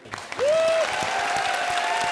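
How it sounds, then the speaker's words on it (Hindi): Applause from a studio audience at a comedy show awards moment, dense clapping that swells quickly and holds steady, with a brief tonal musical sweep near the start. "तालियां बजा दो"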